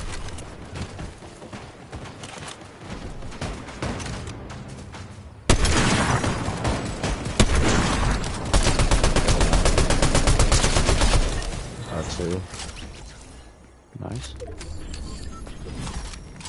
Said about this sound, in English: Gunshots are ahead of us.